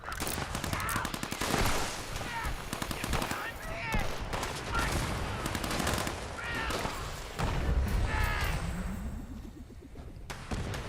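Rapid gunfire in the Fallout 76 video game, dense bursts of sharp shots in quick succession throughout, near and loud with overlapping impacts.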